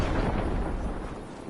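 Rockets explode in the Fortnite video game, a loud, rumbling blast that fills the moment and then slowly fades without any talk.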